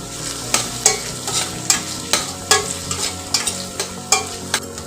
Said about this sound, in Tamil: வெங்காயம், சீரகம், காஞ்ச மிளகாய், பூண்டு, புளி இதெல்லாம் போட்டு நல்லா வதக்கிடலாம்.